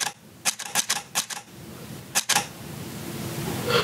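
A camera shutter fires a five-exposure bracketed HDR burst, a run of crisp mechanical snaps, a pause, then two or three more, close and fairly quiet.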